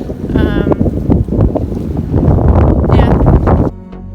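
Strong wind rushes and buffets the microphone aboard a sailboat at sea in the Mediterranean, a loud continuous roar with gusty swells and a brief lull near the end.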